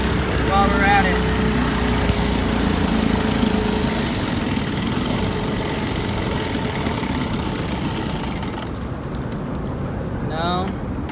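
A 1980 Chrysler Sea King 15 hp outboard motor runs steadily at low speed, a continuous buzzing drone with a faint voice over it and a brief bird-like chirp near the end.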